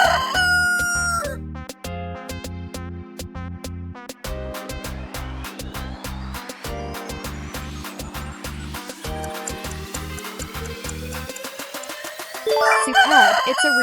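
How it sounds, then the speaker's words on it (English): A rooster crows with a loud, drawn-out cock-a-doodle-doo, set against a busy harmonic background that fills most of the clip, ending in a brief burst of noise. "Superb, it's a rooster."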